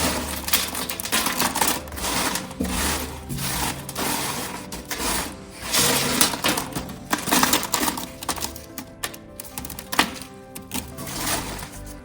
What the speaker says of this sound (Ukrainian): Щойно ми порізали курку.